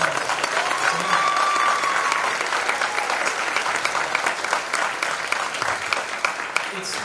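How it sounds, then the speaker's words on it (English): Audience applause fills a school winter concert hall after a beginner band performance, steady dense clapping throughout with a few louder claps standing out near the end. "So, can we get a round of applause?"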